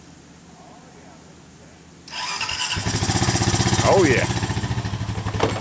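A 2007 Honda four-wheeler engine cranks briefly, catches and fires up, then settles into a loud, steady, chugging run close by, with a voice speaking over it.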